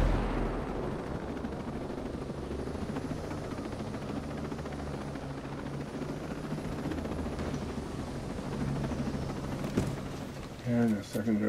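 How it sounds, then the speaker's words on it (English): A secondary explosion in the Ghost Recon Breakpoint video game, a dense rumbling blast and roar filling the scene, with a helicopter-like drone and sharp bursts near the end. "And a secondary explosion."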